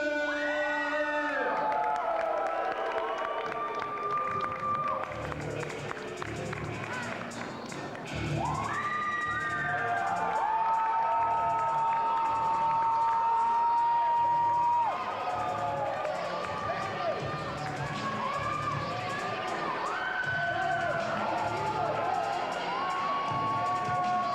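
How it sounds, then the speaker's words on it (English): Loud wrestling crowd in a school gymnasium, with young fans cheering, screaming and whooping. The roar is continuous, with high shrieks and shouts rising over dull thuds throughout. "A lot of these school gymnasium crowds, very loud."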